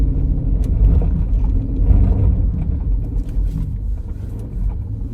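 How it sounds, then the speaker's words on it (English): A Dodge SRT with traction control switched off drives through deep snow during a Colorado blizzard near Denver, giving a steady loud low engine and tire rumble that swells and eases without a break. "that's what it looks like when the SRT has the traction control off"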